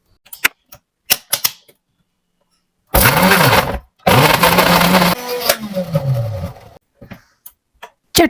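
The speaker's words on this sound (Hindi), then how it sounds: "अब सारी चीजों को ग्राइंड कर ले।" A kitchen blender grinds chutney ingredients with loud whirring bursts, starting and stopping in pulses whose pitch sweeps as the motor spins up and down, with scattered clicks and knocks before and after.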